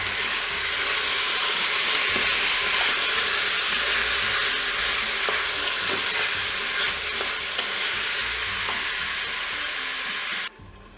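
Toulouse sausages browning in a Cookeo multicooker give a loud, dense, steady sizzle with occasional soft stirring knocks, close up, before cutting off abruptly near the end; no speech.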